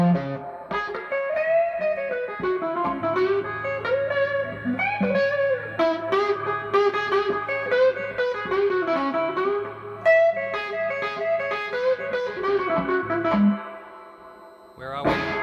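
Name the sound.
Fender style reverb unit effect with mix cranked up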